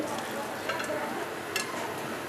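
Chopped onion frying in a little oil in a pot, being stirred for a Bengali beef bhuna; a steady close sizzle with a couple of brief scraping stir accents, no talking.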